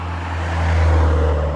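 Car traffic rushes past on a road, a steady broad roar that swells toward the middle and eases slightly, with a low engine hum underneath and no voices.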